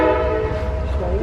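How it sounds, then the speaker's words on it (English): Amtrak train horn sounding in a town street setting, a sustained multi-tone blare holding steady throughout, fairly loud over low rumbling traffic-like noise. "What's that? Is that a train?"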